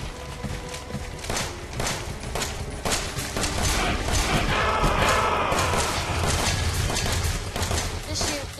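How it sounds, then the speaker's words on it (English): Rapid repeated gunshots ring out in the Resident Evil 7 video game, a dense volley of sharp bursts building to a loud stretch in the middle, with a voice talking over parts of it. "I'm just gonna keep shooting it"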